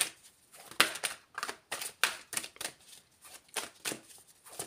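Cards are shuffled by hand in quick irregular bursts of crisp riffling and snapping, close and alone, with short pauses between each run.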